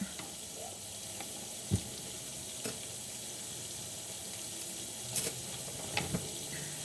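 Running tap water splashes steadily as cut vegetables for a pork pinakbet stew (bitter gourd, eggplant, yellow squash) are washed at a kitchen sink, with a few louder splashes and clunks over the constant flow.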